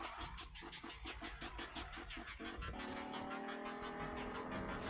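Racing video game car fishtailing around a corner, loud continuous engine roar with rapid rhythmic scraping of tires, then a steadier high rev as it straightens out.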